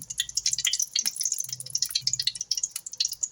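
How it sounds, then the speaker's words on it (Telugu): A spoonful of homemade ghee goes into a pan while making sesame laddus, with close, quiet crackling and sputtering pops that continue for a few seconds. "ముందుగా అయితే మాడిపోకుండా ఒక స్పూన్ నెయ్యి వేసుకుందామండి మనం."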